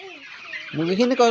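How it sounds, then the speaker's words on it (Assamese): Hens cluck and squawk loudly in a short agitated burst, rising from a quieter start into several rapid calls close by. "মুৰ্গীখিনিক দৌৰাই লৈ ফুৰাইছে"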